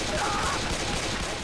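Dense automatic gunfire in the zombie shooter Left 4 Dead 2, a continuous rattling burst running the whole moment, loud and close.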